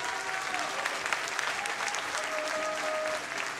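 An audience applauds at a bridal fashion show, with dense, sustained clapping from a crowd filling the room at an even, steady level.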